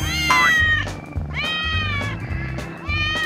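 A kitten meows repeatedly in high, drawn-out cries, close and loud, about four calls in quick succession.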